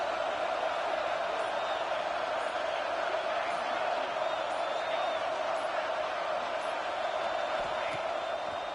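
Large college football stadium crowd at a game against tenth-ranked Washington, a steady loud roar sustained for several seconds with no clear peaks or distinct voices.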